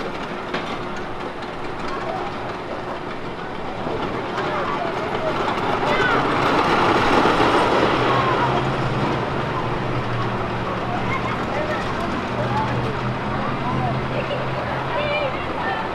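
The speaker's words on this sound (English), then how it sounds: "I'm gonna wait for the train to go so you guys can get a good little view of it running." An amusement park train at Camden Park rolls past with a steady rumble and rhythmic clickety-clack that swells midway and carries on, with faint crowd chatter in the background.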